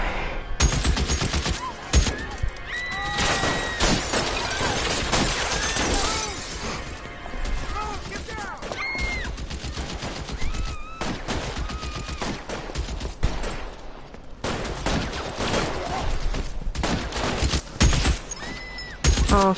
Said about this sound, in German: Ich höre schon die Schüsse.